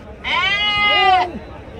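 A Nellore Jodipi sheep or lamb gives a single loud, close bleat lasting about a second, a wavering nasal cry that rises and then falls away.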